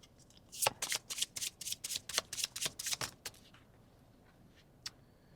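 Tarot cards being shuffled, a quick run of about a dozen crisp riffling slaps close to the mic, then a pause and a single soft card snap.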